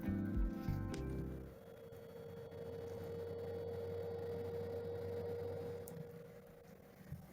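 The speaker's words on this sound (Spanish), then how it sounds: "97, 100 vatios y sí, efectivamente se encendió el ventilador." Cooling fan of a FNIRSI DC-6006L portable 360W lab power supply kicking on under load, a faint steady whir with a low hum, after a brief louder rustle at the start.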